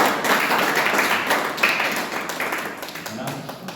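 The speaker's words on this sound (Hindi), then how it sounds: "तो फिर अपने लिए तालियां बजा दीजिए प्लीज" A church congregation gathered for a Good Friday service breaks into a short burst of applause, loud at first and then tapering off over a few seconds.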